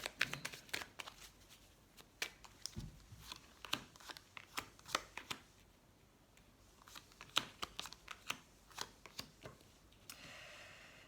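Tarot cards shuffled close by for a reading, a run of crisp riffling taps and flicks with short pauses, quiet and without talking.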